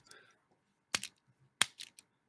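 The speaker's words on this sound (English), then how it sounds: "I keep playing with my fidget toy, so you'll just hear a lot of clicking and clacking." Sharp plastic clicks and clacks from a fidget toy arrive in sparse bursts, close and crisp, with faint murmuring between them in a quiet room.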